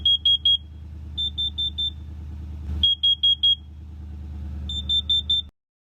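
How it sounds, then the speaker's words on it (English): A Kidde combination smoke and carbon monoxide detector sounds its alarm in repeated bursts of three to four shrill beeps, loud and close over a low steady rumble. "the Kitty smoke detector, actually carbon monoxide detector, technically, the Kitty, Kidde"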